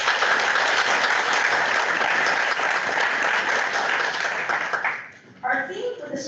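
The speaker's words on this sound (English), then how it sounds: "So let's give them a round of applause." Sustained audience applause for event sponsors at the opening plenary of a spring development day conference, dense and steady, then fading near the end as a voice begins speaking.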